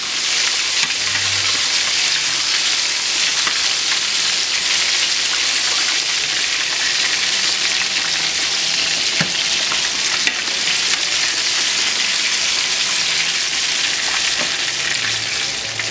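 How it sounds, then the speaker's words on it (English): Buttermilk pork chops frying in oil: a dense, loud, steady sizzle and crackle that continues unbroken, heard close up with no voices. "Pork chops cook really quickly."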